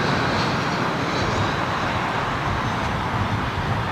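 A Turkish Airlines Boeing 777 departing Heathrow produces a steady, loud broadband jet roar that fills the whole stretch without break and without any talk.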